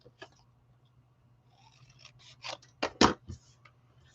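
Scissors snip a square of scored paper where two score lines cross, a handful of short crisp cuts that build to the loudest snips near the end, close up over a faint steady hum.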